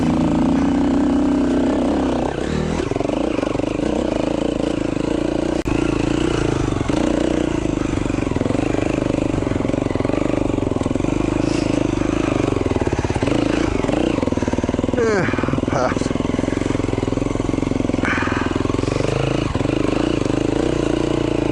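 A 2011 KTM 350 XC-F dirt bike rides a Utah trail, its single-cylinder engine droning loud and close with repeated revs and throttle swells, plus clattering over rough ground and faint wind.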